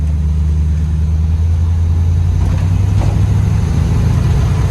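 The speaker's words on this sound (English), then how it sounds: "the suspension is blown out, so you'll be able to hear every single rattle here in a second" A 1951 Chevy Styleline rat rod with blown-out, stiff suspension drives along, a steady loud engine drone and road rumble with faint rattles mixed in.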